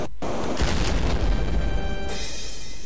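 A loud, booming explosion in Happy Wheels roars for a couple of seconds, dense and rumbling, then cuts off abruptly.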